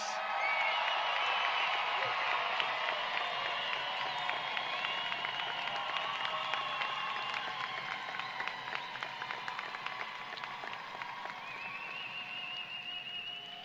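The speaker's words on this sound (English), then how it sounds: "Let's give them a round of applause" Audience at a high school graduation ceremony applauding the graduates, a dense, sustained wash of clapping from a large crowd heard at some distance, fading slightly toward the end, with scattered cheers and whoops.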